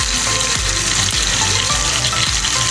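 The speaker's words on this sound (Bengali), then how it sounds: "মাংস আমার কষা চলছে। এবার আমি এই বাটা মশলাটা দিয়ে দেবো।" Meat sautéed with onions in a pan as ground spice paste goes in, a loud, dense sizzle with regular scraping strokes of a spatula about twice a second.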